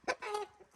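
A rooster of a prized local breed from Namangan gives one short, close cluck, loud and clear, lasting under a second with nothing else around it.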